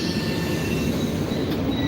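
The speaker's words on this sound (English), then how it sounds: "This is the train to N Station" Subway train running loud and close, a steady low rumble of wheels on rails with faint squealing tones overhead, continuous throughout without voices.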